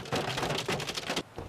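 Hailstones pound cars during a Colorado storm, a dense, loud, rapid clatter of impacts close by that runs steadily for just over a second before dropping away.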